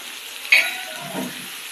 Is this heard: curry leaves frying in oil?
yes